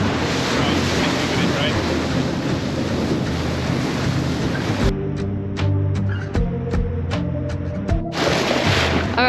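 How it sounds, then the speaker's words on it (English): Large ocean waves breaking off the Australian coast, heard as a continuous heavy wash mixed with wind buffeting the microphone, briefly dropping to a quieter stretch with sharp knocks before the roar returns. "there's huge waves breaking over here"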